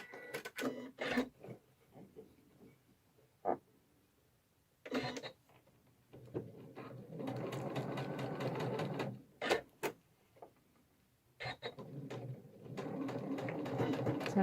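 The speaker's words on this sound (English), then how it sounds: "I can just reverse back over what I've stitched" Domestic sewing machine stitching in reverse back over a seam, bursts of rapid mechanical needle clatter separated by pauses and clicks, the longest run in the second half, heard up close with no talk.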